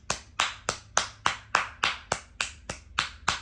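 Slow, evenly spaced hand claps, about ten crisp strikes close up with a short ring after each, from a single person giving a round of applause.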